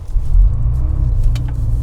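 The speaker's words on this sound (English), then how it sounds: "Yes, you're hearing engine, everything. Right? The engine, the road." A modified 1979 Porsche 911 drones steadily from inside the cabin while driving, its engine rumble and road noise loud and continuous, with a brief faint rattle near the end.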